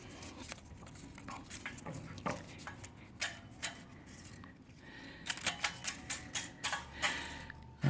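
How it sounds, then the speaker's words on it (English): Reel mower blades spun by hand to cut a strip of paper during adjustment: light, scattered ticks and clicks in a quickening rhythm, faint and close, with no talking. "now we'll check again to see if that slight adjustment has helped with"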